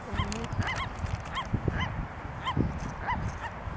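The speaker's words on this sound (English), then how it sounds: "Feeding the birds." Geese honking repeatedly in Mendocino while being fed, with loud, near, stacked calls coming in irregular bursts over a steady outdoor background rumble.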